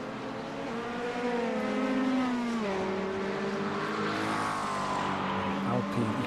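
Sports racing cars lapping Imola during the 4 Hours of Imola in the European Sports Car Championship, with steady engine whine rising and falling through the gears under continuous commentary.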